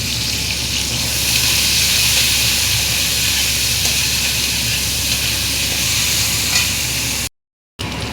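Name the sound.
capsicum and chopped onion stir-frying in a pan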